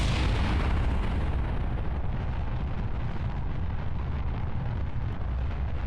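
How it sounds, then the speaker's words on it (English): Rocket engine firing in Kerbal Space Program, a steady loud roaring rumble that holds throughout with a slight hiss fading near the start, no talk over it. "We're going to fire the throttle."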